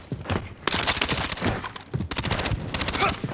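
Gunfire in an online shooter video game, heard as rapid bursts of shots in two clusters separated by a short gap, fairly loud and close, with a faint voice in the background.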